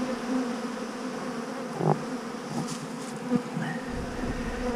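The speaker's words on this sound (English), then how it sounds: "Happy bees." Honey bees swarm a feeder in a dense, steady buzz that holds throughout, with a couple of brief closer passes rising above the hum; no one speaks.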